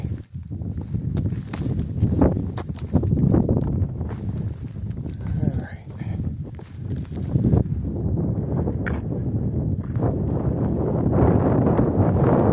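Strong wind roars and buffets steadily across an open mountain top on the Appalachian Trail in Maine, with footsteps and occasional voices underneath.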